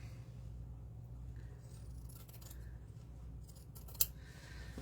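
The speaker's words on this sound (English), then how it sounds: "And I will just trim the edge off of this." Scissors snip along the edge of a paper pocket on a handmade file folder, with soft quiet cuts and one sharp click near the end, against a low room hum.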